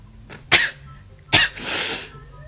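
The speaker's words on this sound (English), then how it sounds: "Sneeze." A person sneezes during a Covid nasal swab test, giving two sharp bursts followed by a longer breathy exhale, close and fairly loud.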